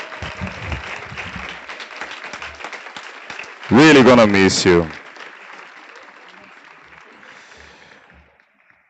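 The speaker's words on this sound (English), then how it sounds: "So please, a round of applause." Steady applause from a school audience at an 8th grade promotion ceremony runs throughout, with a speaker's voice rising over it briefly in the middle before the clapping fades.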